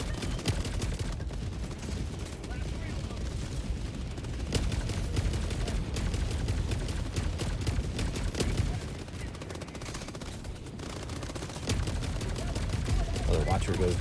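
Sustained machine gun fire and dense gunfire from Helldivers 2 in a battle against the Illuminate, loud and continuous, with rapid overlapping bursts and heavy impacts through the whole stretch.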